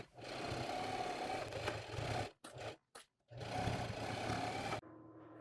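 Sewing machine stitching a Velcro seam on a utility pouch, running in a steady, fast whirring drone that stops briefly several times before a final stop.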